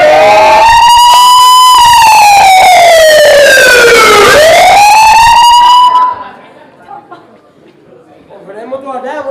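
An ambulance siren sound effect in a Punjabi stage drama wails loudly in long rising and falling sweeps, then cuts off, leaving faint voices and crowd noise.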